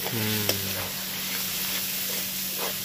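Chicken curry masala with chilli powder stir-fried in a pan, a soft continuous sizzle with occasional scraping strokes, close and fairly quiet, with a faint tonal hum underneath.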